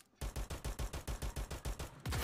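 Rapid burst of about a dozen evenly spaced gunshots in the battle-royale game Free Fire MAX, finishing off a knocked-down enemy, loud and close with no talk, ending in a sustained blast.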